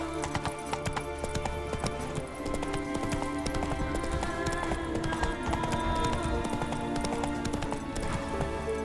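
Hooves of a horse galloping in The Witcher 3 video game, a steady rapid clip-clop rhythm that is loud and continuous throughout, mixed with game music and ambience.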